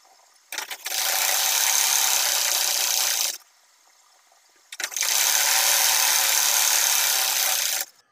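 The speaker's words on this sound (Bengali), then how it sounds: "এই যে সাইড থেকে আমি একটা সাইডে একদম উপর থেকে নিচ পর্যন্ত সেলাই বসিয়ে নিচ্ছি" A sewing machine runs in two long bursts, stitching the side seam of a child's top from top to bottom, with a short pause between runs and no talk.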